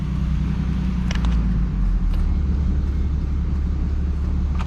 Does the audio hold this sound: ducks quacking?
no